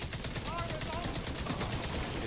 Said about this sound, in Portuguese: você pode dar tiro de fuzil à vontade.